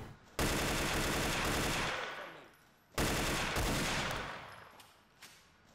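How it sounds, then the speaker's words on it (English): Combat pistol fire in the video game Mirror's Edge, two long loud bursts of rapid overlapping shots, each fading out over a couple of seconds, with no talking. "Oop, I hear a combat pistol."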